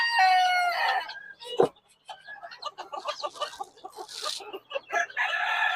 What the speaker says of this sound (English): I do actually have 2 roosters in here and 2 hens and some baby chicks